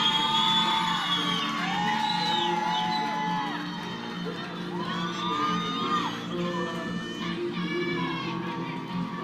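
A crowd of relatives at a US Army basic training graduation at Fort Jackson whoops, yells and cheers loudly and steadily, with high shouted calls rising over a dense roar of voices throughout.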